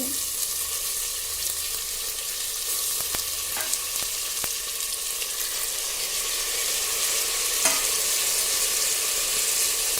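Onions and tomatoes sauté in a pan for mutton thokku, giving a steady, close sizzle with a few sharp clicks of stirring scattered through.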